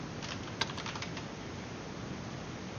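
Short burst of keystrokes on a computer keyboard, a few quick clicks clustered near the start and then stopping, faint against steady background hiss.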